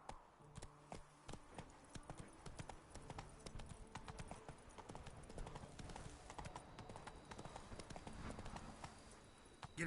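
Roach the horse from The Witcher 3 gallops at speed, a dense, continuous drumming of hoofbeats running steadily through the whole stretch with no pauses.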